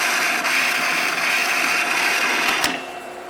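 A Hobart 80-quart planetary mixer runs at high speed with a loud, steady mechanical whir and rattle, then the sound drops off near the end as it slows.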